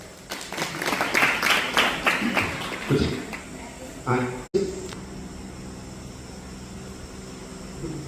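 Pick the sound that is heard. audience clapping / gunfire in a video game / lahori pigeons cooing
audience clapping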